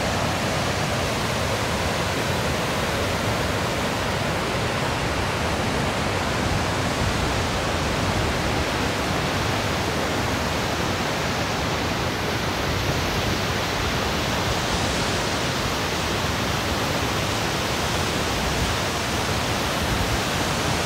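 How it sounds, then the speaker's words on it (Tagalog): Loud, constant roar of a fast-flowing river in the Fraser Valley, a dense rushing wash of water with no pauses. "Lakas ng ilog."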